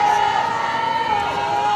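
Players cheering and calling out together in a softball dugout during a Texas vs. Clemson NCAA super regional game, a sustained wash of raised voices at steady volume.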